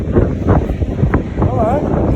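Strong wind buffets the microphone outdoors on a train trip with a few people nearby, a steady loud rumbling roar with gusts, while voices talk over it.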